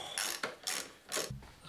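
A ratchet with a 14 socket clicks in three quick bursts while undoing a fork bolt on a BMW 1150GS motorcycle, close and crisp with no talking.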